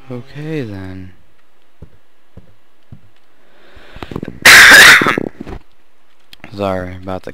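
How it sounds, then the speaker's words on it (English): A single loud, harsh cough bursts out close to the microphone, set between stretches of a man's speech and long quiet gaps. "Sorry about the coughing."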